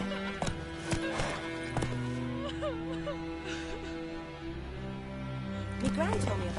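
Hooves clip-clop steadily as a horse moves in The Witcher video game, with a whinny and game voices and music running over the rhythm throughout.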